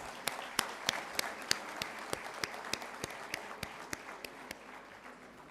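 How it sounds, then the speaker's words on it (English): An audience at a national conference of CA students claps through an inaugural session, a steady stream of sharp, fairly sparse claps heard from a distance at moderate loudness, with no talk over it. "let's have a big round of applause for Pune Vikasa"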